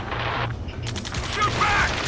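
Automatic gunfire in an Ace Combat 7 combat mission: rapid bursts of shots crackle close by, mixed with mechanical clatter and game effects, with no clear talk over them.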